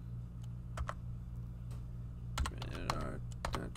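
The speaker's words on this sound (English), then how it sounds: "we're typing in the username." Scattered keyboard clicks, a few isolated taps then a quicker burst of typing, heard close over a steady low hum.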